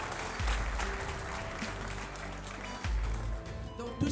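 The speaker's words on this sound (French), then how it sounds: "Donc on peut applaudir les nouveaux membres de l'hôtel Ambre." Applause for new hotel association members at an evening gathering: a room of people clapping steadily for a few seconds, moderately loud and slightly distant.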